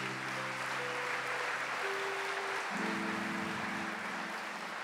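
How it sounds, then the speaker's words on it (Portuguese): Church congregation applauding during a Catholic service led by a priest, a steady broad wash of clapping throughout with sustained organ or keyboard tones sounding underneath. "Pode aplaudir o Senhor"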